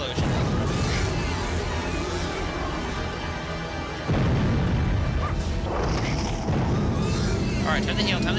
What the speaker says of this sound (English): There's the nuclear explosions that are going off there.